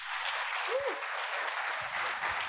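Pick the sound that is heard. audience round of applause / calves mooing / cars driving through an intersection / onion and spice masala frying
audience round of applause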